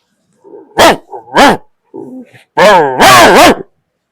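A man imitates a dog barking with his voice, giving several loud, close barks in two short bursts with a brief pause between.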